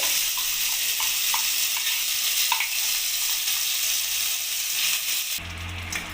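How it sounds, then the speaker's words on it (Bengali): Ground spice paste sizzles and fries in a hot wok (kadai), a steady dense crackle with stirring scrapes throughout, close and loud, as potato curry (aloo dum) is cooked; a low rumble enters near the end. "আমি মিক্সিতে যে মশলাটা পেস্ট করে রেখে দিয়েছিলাম সেটা আমি দিয়ে দিলাম কড়াইতে"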